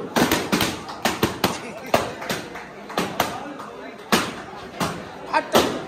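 Sharp bursts pop irregularly, like firecrackers, during the prize-giving ceremony of a school marathon. The loud, clipped bangs come about every second amid crowd noise and talking.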